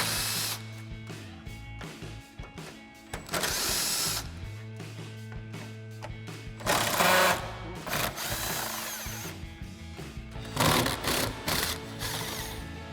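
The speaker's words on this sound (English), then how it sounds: "So we'll grab our 10mm and our extension again on our impact," Impact wrench with a 10mm socket and extension backing out headlight screws on a 2014-2018 GMC Sierra 1500: several short, loud whirring bursts with rattling between them and brief pauses, nearby.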